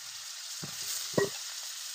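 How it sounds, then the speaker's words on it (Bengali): Potatoes frying in hot oil with cumin seeds and three bay leaves for a rohu fish curry, a steady soft sizzle with a couple of brief stirring clatters near the middle, no talk. "আলুগুলোকে ভালো করে ভেজে নেব।"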